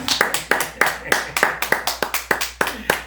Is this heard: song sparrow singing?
no